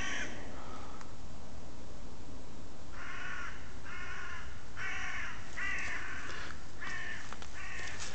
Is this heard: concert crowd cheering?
no